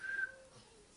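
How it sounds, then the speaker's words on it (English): An African grey parrot gives a single short, clear whistle that slides slightly, faint and indoors, fading into quiet room noise. "Good whistle."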